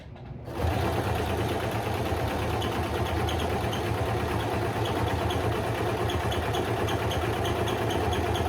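A small residential sewing machine stitches seat cover upholstery panels for a 1959 Ford Country Sedan, starting after a brief pause and then running in a steady fast mechanical whir with rapid needle clatter, close and continuous, with no talking.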